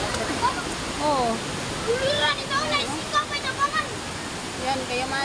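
Pondol Falls after Typhoon Opong, a steady broad rush of falling water close by, with people talking over it.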